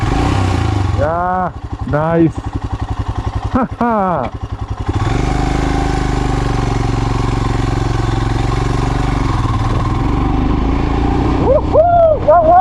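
Royal Enfield Himalayan 411 motorcycle exhaust, loud and close, blipped in several sharp revs before settling into a steady idle, then revved again at the end, with brief voices and laughter alongside.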